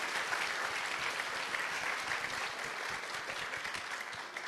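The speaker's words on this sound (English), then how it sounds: "Round of applause? Come on." An audience at a PonyCon AU 2014 voice actor convention panel claps in a sustained round of applause. The dense, even patter holds steady for several seconds at moderate volume, with no one speaking over it.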